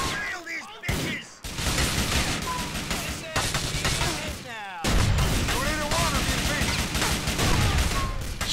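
Shotgun blasts and scattered gunfire from a street shootout in Grand Theft Auto: The Ballad of Gay Tony, loud and dense, with game dialogue and voices talking over the shots throughout.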